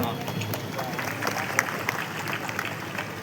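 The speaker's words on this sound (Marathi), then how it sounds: "जरा एकदा जोरदार टाळ्या तरी वाजवत का?" An outdoor crowd at a local event claps together in a loose, steady patter, with scattered louder claps and faint babble underneath.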